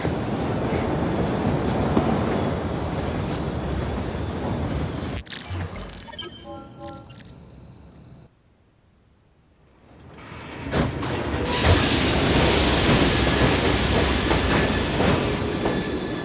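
A train rolls along the rails with a loud steady roar, then the sound drops to near silence for a couple of seconds before the rumble swells back up and carries on.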